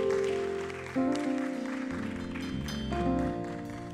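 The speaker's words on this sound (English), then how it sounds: "Let's give the Lord a round of applause" Church congregation applauding over sustained organ or keyboard chords, a dense wash of clapping carried under loud, steady music throughout.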